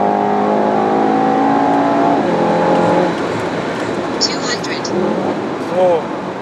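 A tuned Stage 1 Mercedes S63 AMG with upgraded transmission pulls hard under wheelspin, its loud engine note rising then dropping after about three seconds as traction control cuts in, with a broad roar continuing and brief tire squeal near the end.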